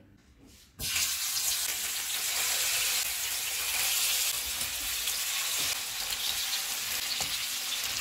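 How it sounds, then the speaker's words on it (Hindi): Mutton chops hit hot oil in a frying pan, opening with an abrupt loud burst of sizzling that settles into a steady, strong frying hiss, heard alone. "ऑयल गर्म हो गया, इसमें चाप्स डाल देंगे।"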